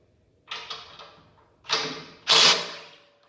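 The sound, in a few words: removing a bolt from a Ferris mower chute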